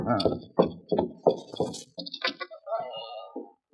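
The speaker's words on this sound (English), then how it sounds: "Somebody at front door." Knocking at a front door as a radio drama effect: a series of five firm, evenly spaced raps up close, followed by softer shuffling and muffled indistinct sounds.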